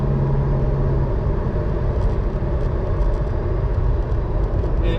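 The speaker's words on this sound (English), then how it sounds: "I'm riding with the supercharger turned off" A 1960 Studebaker Lark car engine, supercharger off, hums steadily from inside the cabin while driving, a continuous low rumble with road noise and no talking.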